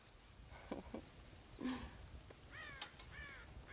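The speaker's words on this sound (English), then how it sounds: "God damn crows!" Crows in the Red Dead Redemption video game caw near a farm silo, with several harsh, separate calls scattered across a few seconds, moderately close over a quiet outdoor background.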